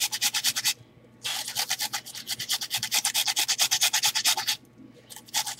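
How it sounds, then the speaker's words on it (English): A carrot is being grated by hand for a vegan pear and apple stuffing, giving rapid, rhythmic rasping strokes in close bursts. One short pause breaks the grating, and nobody speaks. "And I'm going to grate that there too."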